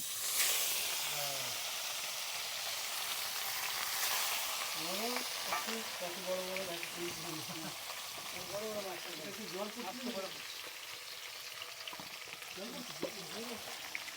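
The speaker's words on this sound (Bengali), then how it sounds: "তেল গরম হয়ে গেছে, এবার মাছগুলো ছেড়ে দিচ্ছি" Salted, turmeric-rubbed catla fish pieces fry in hot oil in a full kadai, a continuous close sizzling hiss that runs steadily throughout while someone talks over it.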